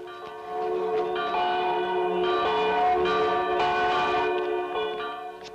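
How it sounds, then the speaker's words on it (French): Church bells ring steadily and fairly close, sustained overlapping peals with a rich ringing tone and no talk over them. "Qui est-ce qui sonne les cloches?"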